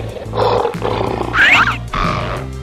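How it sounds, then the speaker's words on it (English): A lion roaring loudly and close, a long rumbling roar with grunting breaths, continuous and heard alone. "Lion."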